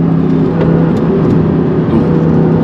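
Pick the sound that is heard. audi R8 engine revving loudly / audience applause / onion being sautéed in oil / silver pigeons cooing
audi R8 engine revving loudly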